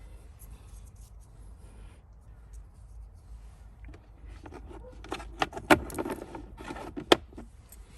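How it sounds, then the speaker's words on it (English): Small plastic locks on the sides of a Hyundai i30 glove box (2017 onwards) being pressed back into place, quiet fiddling followed by a few sharp close clicks near the end. "Half close your glove box and reinstall the small locks on either side."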